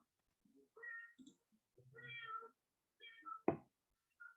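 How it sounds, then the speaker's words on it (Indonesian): A domestic cat meows several times in short, rising calls spaced by brief pauses, fairly near and clear, with a sharp knock near the end and a final short meow. "maaf sebelumnya kalau dengar suara kucing ya"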